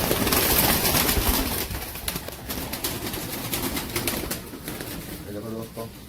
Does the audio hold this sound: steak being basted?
no